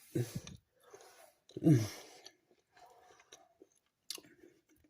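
Someone chews bacon cheddar ranch dip up close, producing faint, sporadic mouth and bite sounds with a few stronger bursts and soft breaths in between.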